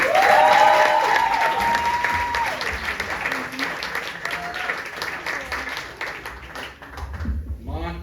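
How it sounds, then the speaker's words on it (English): Audience at a comedy festival show in Montclair applauds loudly and steadily for a comedian taking the stage, the clapping slowly fading, with a voice talking over it at the start. "Keep your hands clapping for Bill Schaefer."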